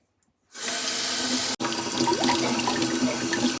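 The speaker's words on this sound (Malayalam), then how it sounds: "എന്തായാലും നമുക്ക് കോളിഫ്ലവർ ഒന്ന് കഴുകാം" A tap starts after a short silence and water runs steadily into a sink, broken by one brief cut, as cauliflower is rinsed under the stream.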